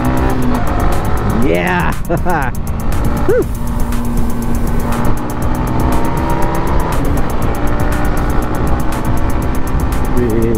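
Yamaha XSR 155 motorcycle engine droning steadily on a bypass road test ride, with a rising rev and shifting pitch around two seconds, continuous wind and road noise, and someone talking briefly over it.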